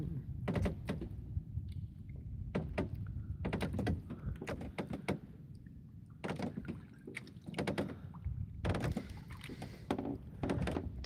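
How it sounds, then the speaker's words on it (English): A boat on calm water creaks and knocks again and again in irregular wooden thunks and groans, close by and fairly steady over a soft background hum. "Listen to the boat creaking."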